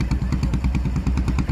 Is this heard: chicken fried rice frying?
no